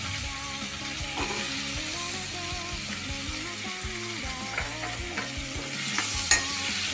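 Small, thinly cut eggplant pieces fry and sizzle steadily in a pan for a curry with fenugreek leaves, with occasional stirring clatter from a spoon and a brief sharp scrape near the end, no talk.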